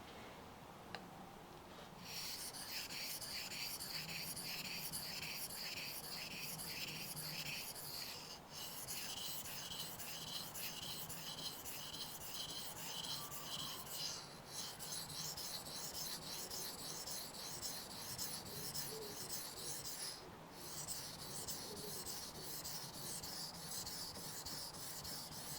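A knife blade being sharpened in a basic sharpening session, with a steady, rhythmic rasping scrape of repeated strokes that runs continuously and closely for the whole stretch, without speech.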